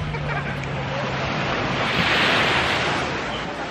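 Ocean waves at Crash Boat Beach, Puerto Rico, on a cloudy day, a steady broad wash of surf swelling slightly toward the middle, mixed with wind buffeting the microphone and a faint low hum.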